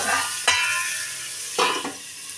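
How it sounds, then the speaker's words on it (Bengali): Potatoes frying in oil in a covered pan, a steady bright sizzle throughout with two sharper clatters of utensil or lid against the pan, no talking. "ঢেকে দেবো যাতে আলুটা একদম লাল লাল করে সুন্দর করে ভাজা হয়ে যাবে"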